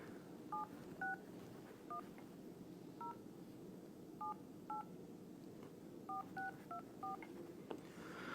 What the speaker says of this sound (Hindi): ये नंबर डायल कर रहे हैं हम लोग